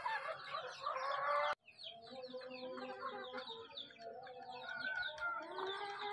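A hen near her freshly laid egg clucks and calls in a busy, close stream of short squawks, with other fowl chattering around her after a sharp break early on.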